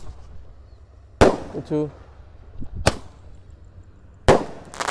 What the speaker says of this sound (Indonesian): eksperimen menyalakan banyak sekali mercon petasan di lubang tanah